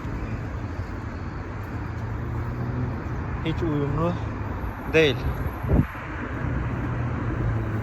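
A steady roar of busy city street traffic fills the background, with passing vehicles swelling slightly while someone talks over it.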